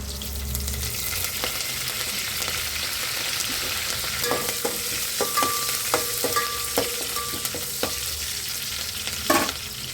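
Puffed rice upma with curry leaves fries in a pan, giving a steady close sizzle with scattered stirring clicks and scrapes from a spoon, no voices over it.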